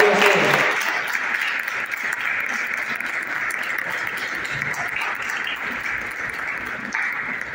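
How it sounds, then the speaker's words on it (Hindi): A sustained round of audience applause at a World Hindi Day celebration at a Hindu temple in Panama, steady and full for several seconds. "एक बार तालियों से"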